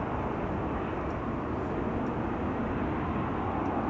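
An Aegean airliner arriving from Athens at Amsterdam Schiphol Airport, heard as a steady broadband jet roar that holds at constant loudness, distant and continuous with no voices.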